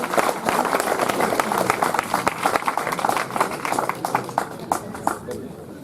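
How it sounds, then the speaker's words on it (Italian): Audience applause for a poet at an open-air poetry event in Atzara, Sardinia: dense, steady clapping from a sizable crowd, sustained throughout and thinning slightly toward the end. "Un applauso a Gesuina Ascano"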